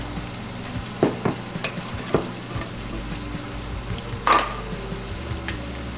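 Flour cooking in hamburger grease for gravy sizzles steadily in a pan, with a few sharp utensil scrapes and taps standing out above the continuous frying hiss.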